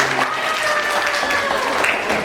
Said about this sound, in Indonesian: mari kita berikan tepuk tangan yang meriah lagi